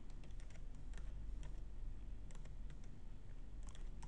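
Keystrokes on a computer keyboard while Java code is entered, a quiet, steady run of light clicks in small bursts over a low constant hum, no voice.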